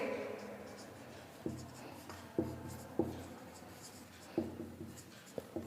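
A pen or chalk writes a physics definition during a class lesson. There are several short scratching strokes with pauses between them, faint and close by, while a teacher talks.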